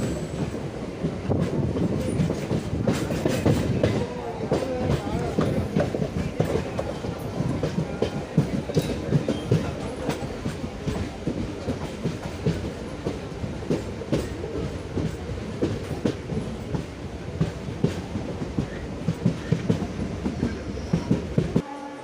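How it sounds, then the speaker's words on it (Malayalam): A train rumbles along the tracks into Sasthamkotta railway station in Kerala, with rhythmic clickety-clack and occasional wheel squeals, loud and sustained throughout. "വണ്ടി ശാസ്താംകോട്ട റെയിൽവേ സ്റ്റേഷനിലേക്ക് കയറുകയാണ്"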